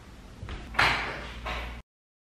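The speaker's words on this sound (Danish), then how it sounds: "Og så banker det på." A door knocked on inside a home, heard as two short, fairly loud bursts a little apart, with quiet room tone around them and no talking.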